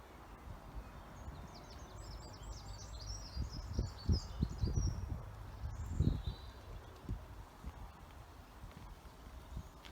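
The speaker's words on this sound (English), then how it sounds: "can you hear the birds?" Birds chirp and trill faintly in the distance over steady outdoor street ambience on Pulteney Street in Bath, with some footsteps and low rumbling nearby.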